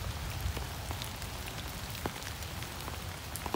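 Heavy rain pours down steadily in Pattaya, a dense patter of drops on surfaces with a constant soft hiss and no voices.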